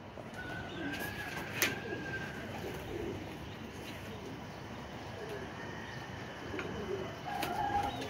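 Soft pigeon cooing drifts over a steady outdoor hum, with a few faint bird calls and a brief sharper sound near the start.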